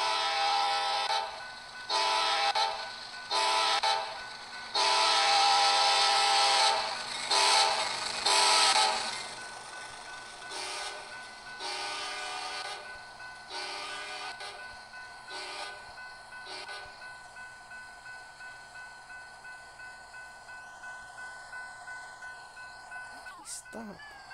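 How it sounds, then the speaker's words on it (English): A CSX train passes on a Southline District line, with loud repeated horn blasts early on followed by a fading rumble of cars rolling by. "Here comes my train."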